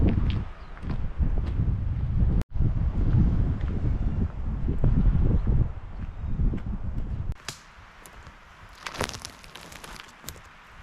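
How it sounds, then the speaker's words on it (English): Wind gusts rush and roar steadily around a wild camp in heavy rain, buffeting close to the microphone for several seconds before easing to a quieter, intermittent rustle. "That wind is picking up now."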